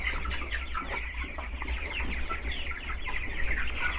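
Broiler chickens on a South African farm clucking in a busy, overlapping chorus, with repeated short clucks and murmurs from several birds at moderate distance, no talking.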